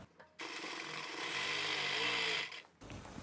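Sewing machine stitching a size-36 blouse, a close rapid mechanical whir running steadily for about two seconds, stopping, then briefly starting again.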